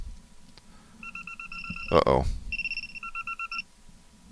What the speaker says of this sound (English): That's my alarm telling me I need to shut down the stream.